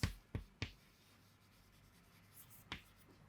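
A pen draws a table on paper, making faint, quiet scratching strokes with a few sharp taps as the tip meets the page.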